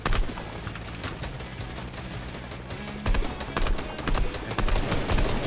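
Gunfire rattles through a Fortnite battle in rapid, continuous bursts, loud and close, with the volume swelling again in the second half. Players talk briefly underneath.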